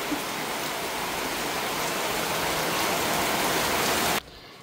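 Steady, dense rain pours down with an even hiss, then cuts off abruptly near the end.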